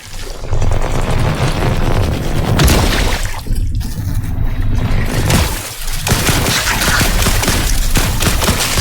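Bursts of rapid gunfire from The Last Caretaker video game come loud and close in several volleys, separated by brief gaps and mixed with a rumbling boom-like background.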